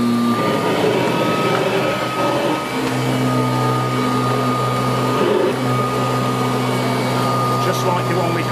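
A 1981 Kirby Heritage 1 vacuum cleaner runs on carpet tiles, giving a loud, steady motor drone with a constant hum that shifts slightly in pitch partway through.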